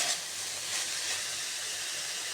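Cabbage cooking in a pan on a gas stove gives a steady, even hiss of steam and sizzle, constant throughout with no talking.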